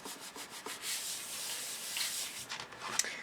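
A soft, continuous rubbing as Stamperia paper is burnished flat onto a memory chest craft project, close and fairly quiet, with a few brief scuffs and one small tap near the end.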